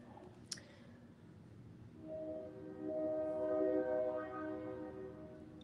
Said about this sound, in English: Comes my train.